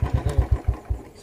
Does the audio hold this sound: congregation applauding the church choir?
no